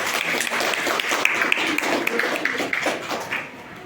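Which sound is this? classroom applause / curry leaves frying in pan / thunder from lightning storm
classroom applause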